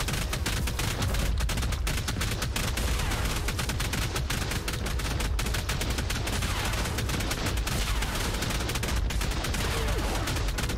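A Tek Drake fires in an ARK survival game battle, a loud dense barrage of rapid gunfire-like shots that continues without a break for the whole span.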